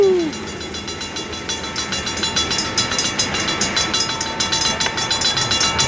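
An Amtrak, BNSF or Coaster train rolls into Carlsbad Village Station with rumbling wheels and a rhythmic clickety-clack that grows steadier and louder, a brief horn-like tone at the start.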